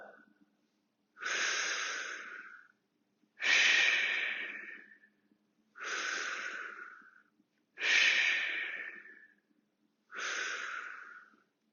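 Five loud, breathy exhales come at an even pace of about one every two seconds, separated by near silence, as people breathe in and out during a fitness class exercise.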